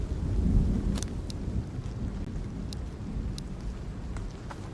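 Steady rain falls in a video game with a low rumble of thunder beneath it, continuous and fairly soft, with a few faint clicks on top and no talking.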